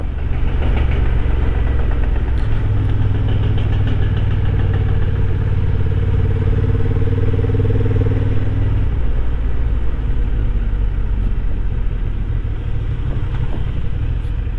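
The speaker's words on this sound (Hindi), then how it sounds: "बाइक बंद कर देते हैं, थोड़ा फ्यूल सेव करो।" A Honda CB750 Hornet motorcycle idles on a broken mountain road, its engine giving a steady, loud low throb with a rough knocking texture, close and alone with no talk.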